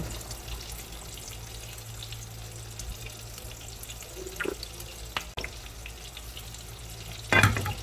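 Butter and olive oil sizzle steadily in a pan before pink salmon goes in, a soft continuous frying hiss with a few brief clinks and a sharper burst near the end.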